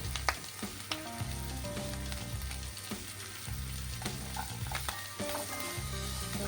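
Egg, capsicum and shredded cabbage stir-fried for fried rice give a steady, loud sizzle, with repeated scraping and clacking as the vegetables are stirred in the pan and no talking.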